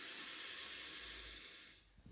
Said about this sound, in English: Okay, we're going to breathe in and then we're going to hum out.